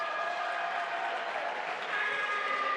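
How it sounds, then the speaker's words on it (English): Crowd applauding and cheering for the winner at Tatami 2 of a Paris qualification tournament, a fairly soft, steady wash of clapping heard from a distance, sustained for a few seconds. "the cheer you heard was for Thomas Clems from France"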